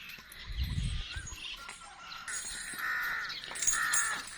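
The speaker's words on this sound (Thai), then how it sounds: "อีกาเยอะมาก" Crows call around a house, giving several harsh caws at moderate distance in an irregular sequence over quiet background noise, with no talking.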